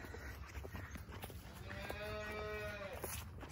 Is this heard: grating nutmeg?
no